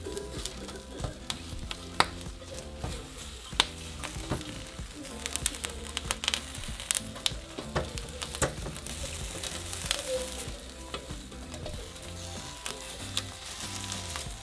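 Tomatillos, garlic and onion roast in a hot pan for green salsa, giving a steady, close sizzle and crackle with scattered pops that runs through the whole stretch without talk.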